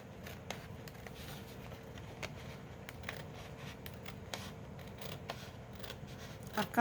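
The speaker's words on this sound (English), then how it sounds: "I'm just going to cut it with my scissors because I got a straight edge to go by." Scissors cut along a straight edge of paper for a junk journal insert, a series of soft, close snips and crisp paper rustles at an irregular pace.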